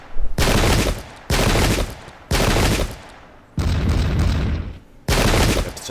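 Musket volleys in the Pike and Shot video game, five long loud crackling bursts of massed fire separated by short pauses, each rolling on for about a second before fading.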